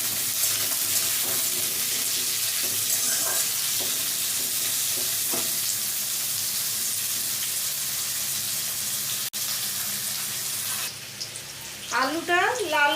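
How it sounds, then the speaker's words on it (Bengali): Potatoes fry in a pan for a Bengali pumpkin and potato curry, the oil hissing in a steady close sizzle with occasional stirring scrapes, before a brief burst of louder, warbling sound near the end. "আলুটা একটু লাল করে ভেজে নেব।"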